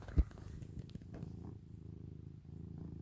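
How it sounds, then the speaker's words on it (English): A settled cat purrs close by with a paw resting on a hand, a steady low rumbling purr that runs through the whole stretch after one brief bump near the start, with no talking. "Can you hear the purring?"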